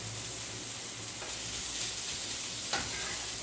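Onions, garlic and hash browns sizzle steadily in a pan, a soft continuous frying hiss with a couple of faint stirring scrapes and no talk.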